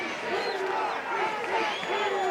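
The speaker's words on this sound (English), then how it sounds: "The Green Machine chant echoes throughout the field right now" Football stadium crowd chanting "Green Machine" at a 2009 high school game against Plano, a steady roar of many voices with rising and falling sustained chant tones filling the field.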